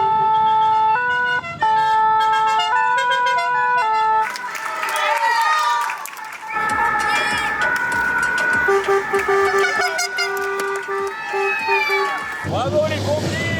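A fire engine siren in the Tour de France publicity caravan wails loudly and close, shifting between tones as it passes, with a crowd and voices talking and cheering around it.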